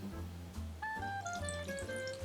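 Water running into a bowl of gazpacho with pimenton, sugar, vinegar and olive oil, a steady close pour for about a second and a half with a rising ringing tone as the level fills.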